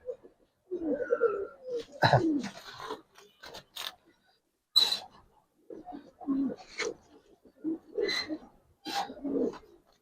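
Giribaz silver pigeons coo repeatedly in close, rhythmic bursts of low throaty calls, with brief pauses between phrases and no talking over them.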